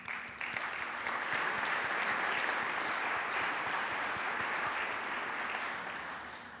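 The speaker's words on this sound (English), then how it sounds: "Can we please give them an applause?" Audience applause at the Lowitja O'Donoghue Oration, a steady, dense wash of many hands clapping that swells quickly, holds loud and even for several seconds, then gradually thins toward the end with no talking over it.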